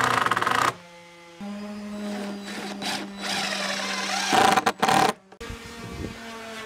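Power drill driving screws into wooden deck boards outdoors, a steady motor whine in several long runs broken by short pauses and brief stops between screws, close and fairly loud, no talking.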